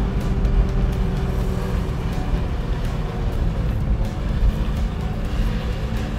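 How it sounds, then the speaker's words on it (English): A car pulls away up a steep road, heard as a loud, close, steady engine-and-road rumble with no clear rise in pitch, and no talk over it. "we start to accelerate"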